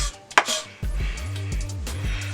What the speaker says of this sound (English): So I'm going to chop this up a little bit. This is a rough chop.